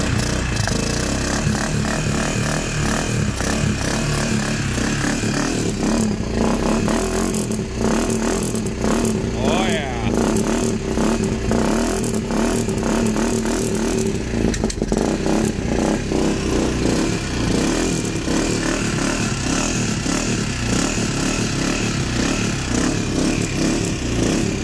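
A Honda 400EX ATV engine cranks and sputters as it is coaxed to start, a dense, loud, clattering mechanical drone with uneven revving pulses, heard up close throughout with people talking over it.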